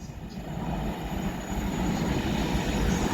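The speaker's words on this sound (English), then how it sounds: "now passing through is a London North Western Railway Class 350" A London North Western Railway Class 350 electric multiple unit rushes past close by at Winsford on the West Coast Main Line, a steady loud roar of wheels and motion building over a few seconds.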